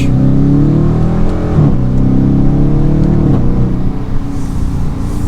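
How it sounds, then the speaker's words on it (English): A 2023 Dodge Challenger R/T V8 muscle car roars through a second-gear launch, its loud deep exhaust note rising and surging as it accelerates hard, heard close and alone without talk. "slip it into second gear, and we do a second gear launch"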